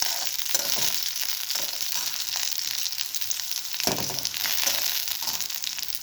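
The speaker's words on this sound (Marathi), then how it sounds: "मिरची आपली भाजत आलेली आहे, हे पहा, असे डाग पडेपर्यंत भाजायचे आहे।" Green chillies roasting in a pan, giving a steady close crackling sizzle for the whole stretch with a few brief louder pops and stirring scrapes, no voices.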